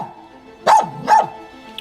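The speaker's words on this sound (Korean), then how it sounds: "개 짖는 소리 골목부터 납니다" Dogs kept at a suspected illegal breeding site bark twice in quick succession, loud and close, with a quiet hum underneath.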